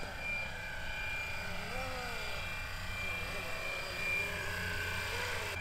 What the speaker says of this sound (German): Wenn wir dann noch den Gearknüppel nach links oder nach rechts bewegen, fängt der Heli auch noch zusätzlich an, sich in der Kreisbewegung um die eigene Achse zu drehen.